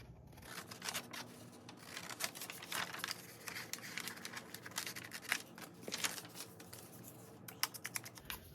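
Scissors snipping through paper ephemera made with Tim Holtz Photo Booth pieces and grungy tapes, a quiet run of small crisp cuts and light paper rustles close by, with no talking.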